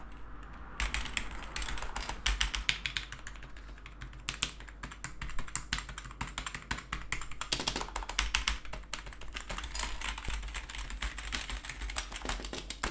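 Rapid, soft clacking of a Nubwo NK17 dome-switch computer keyboard, close up, with a steady flurry of presses and brief pauses, no talking.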